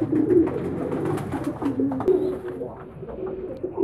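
Domestic pigeons kept by a breeder, some of them ailing, coo steadily at close range, low throaty calls overlapping one another for the whole stretch with no talking.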